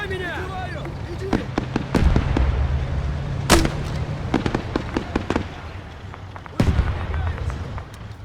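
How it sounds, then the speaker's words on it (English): Rifle grenades exploding in a war video game, several loud booming blasts spread out over a constant rumbling battle background, with a voice talking over them. "Let's drop a few rifle grenades into that area."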